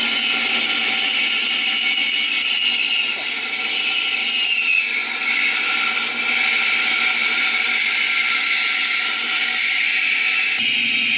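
A power tool cuts into a KOYO aluminum radiator, a loud continuous high-pitched whine and grinding buzz that holds steady close up, dipping briefly midway before carrying on.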